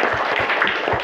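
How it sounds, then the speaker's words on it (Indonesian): Classroom applause for a pupil during a teacher's performance-assessment lesson: a steady, dense patter of many hands clapping close by, continuous for the whole second with no talk over it. "tepuk tangan buat si Joko"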